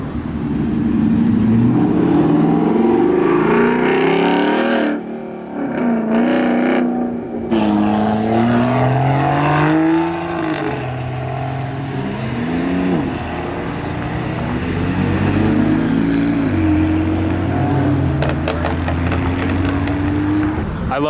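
A modified Lexus RC F revs loudly as it leaves a Dallas car show, its engine pitch climbing and falling through repeated throttle blips close by, with crowd noise and a passing voice beneath.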